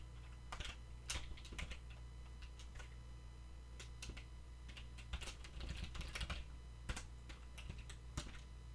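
Code typed on a computer keyboard: quiet, irregular bursts of light keystroke clicks with short pauses between runs, heard close in an otherwise quiet room.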